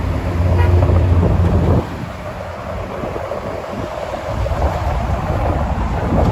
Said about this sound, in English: Wow, it's so windy, guys.